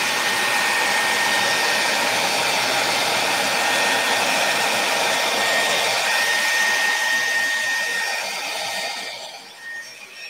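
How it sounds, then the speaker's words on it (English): Hair dryer blowing on a mixed media magazine project, a steady loud whooshing hum up close that runs continuously before fading out near the end. "let's dry that with the dryer"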